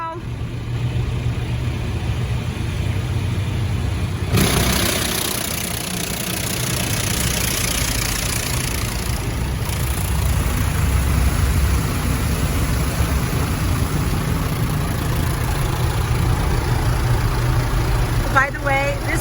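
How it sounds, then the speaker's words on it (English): A touch-free car wash running, a loud continuous roar of spraying water and machinery heard from inside the car, with a shift partway through as the spray pattern changes. "this is the touchless car wash"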